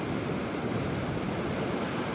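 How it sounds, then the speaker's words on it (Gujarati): Rough sea waves wash onto the shore in stormy weather. The surf makes a continuous, loud, broadband roar with no breaks, close to the listener, and no talk over it. "હું તમને બતાવું આ દરિયાના મોજા"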